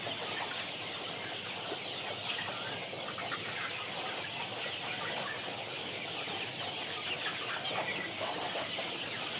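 A dense, unbroken chorus of chicks chirping and peeping on a poultry farm in Kokand, a crowded and fairly close flock with no pause throughout.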